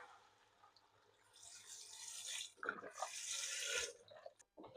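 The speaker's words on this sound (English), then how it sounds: "Add our 1 litre of chicken stock." Chicken stock, about a litre, is poured into a soup pot, a steady liquid splash that swells louder over a few seconds after a quieter start, with no voices.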